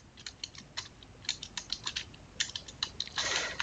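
Rapid irregular keystrokes on a computer keyboard, close and fairly quiet, coming in short bursts with a denser flurry of typing at the end.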